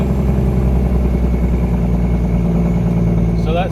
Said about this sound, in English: I'm up at 1500 RPM.